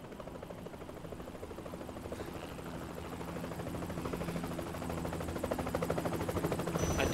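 A helicopter in the video game Yakuza 3 thrums with rapid rotor chopping that grows gradually louder and nearer over several seconds, a dense rhythmic pulse with no speech.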